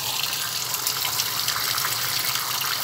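Water gushes steadily into a Suggar Lavamax 10 kg washing tub, a continuous loud hiss of filling with no pauses and no voices.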